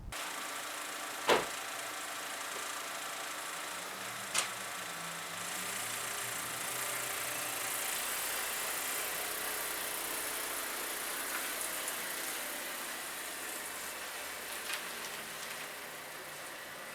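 Idling engine of a tuned Chevy Sonic RS, a steady low hum heard from outside with faint broadband noise and a couple of sharp clicks near the start.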